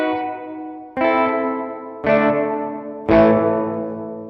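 An electric guitar through a spring reverb pedal, three notes or chords struck about a second apart, each ringing out in a bright, shimmering wash that lingers and decays before the next, with no voices.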